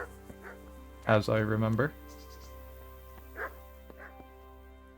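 Dogs bark in the video game Kingdom Come Deliverance: a loud, close burst of rapid barking lasting under a second, then a few fainter single barks, with someone speaking briefly.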